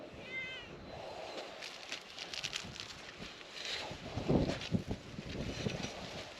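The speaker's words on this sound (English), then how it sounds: "Garden cat." A cat meows in a garden, a short harmonic call near the start, followed by wind buffeting the microphone and some rustling handling noise.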